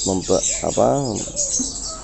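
A buffalo myna (jalak kerbau) calls outdoors in the morning: a quick run of several harmonic, pulsing calls, the longest one in the middle, sounding close and fairly loud.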